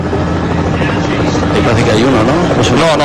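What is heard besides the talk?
television helicopter flying over a cycling race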